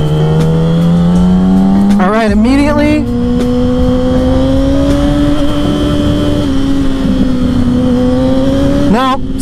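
Suzuki GSX-R 750 sport motorcycle on a test ride, its engine droning steadily close by with a rising pitch and brief sharp revving bursts as the rider shifts, wind noise throughout.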